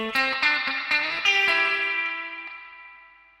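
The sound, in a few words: guitar reverb effect pedal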